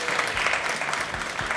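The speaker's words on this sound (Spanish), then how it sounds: "un aplauso para ellos" Short burst of audience applause for contestants on a TV quiz show, brisk dense clapping at moderate level, brief and continuous.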